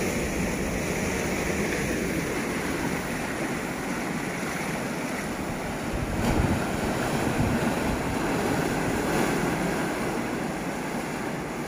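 Waves rolling onto North Lang Van beach, a constant broad wash of surf with wind buffeting the microphone, swelling slightly midway; no talking.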